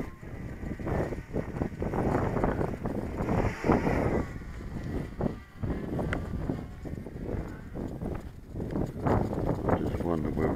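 Gusty wind buffets the microphone on an exposed hilltop ahead of a short flight, a steady loud rumble with swelling gusts running through the whole stretch, mixed with a voice speaking.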